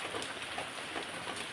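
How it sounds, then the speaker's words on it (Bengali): Rain falls steadily outside a home, a dense, even hiss of drops with no pauses and no voices. "বলতে না বলতে যে বৃষ্টিতে শুরুই হয়ে গেছে।"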